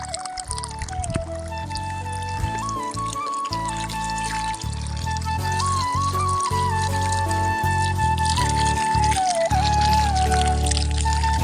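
Water is poured onto a rose plant in a home flower garden, a continuous gurgling, splashing pour that runs for several seconds, close by and fairly loud, with no talk.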